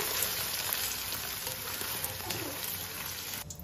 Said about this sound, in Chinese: 我们把小料给它放进来，接着滑一下油